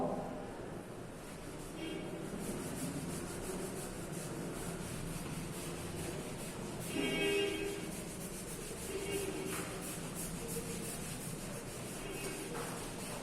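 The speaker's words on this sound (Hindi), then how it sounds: "चलो इसको मैं रब कर देता हूं" Writing being rubbed out on a board during a maths lesson, a steady, continuous scrubbing rasp that runs throughout with slight swells in intensity.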